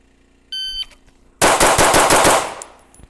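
A pistol with a red dot sight fires a rapid string of about eight close, loud shots after a short electronic beep, and the echo fades at the end.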